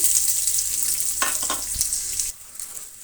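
Onions frying in hot oil with mustard seeds sizzle loudly and close up, with a few crackling bursts and stirring scrapes before the sound drops suddenly near the end.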